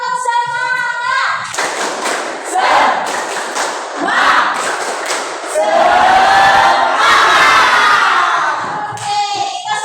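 A classroom of students claps a rhythmic chant together while shouting loudly in unison, a dense burst of voices and hand claps from a large group that swells and peaks before fading.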